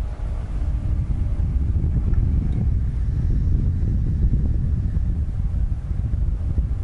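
Motorcycle exhaust rumble captured by a microphone mounted near the exhaust while riding, buffeted by steady heavy wind noise, loud and continuous throughout.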